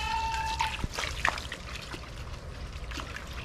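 Water from a garden hose pours into a large cooking pot (kawa) outdoors while bopis is being prepared, a soft steady trickle with a few small knocks and clinks, fairly quiet.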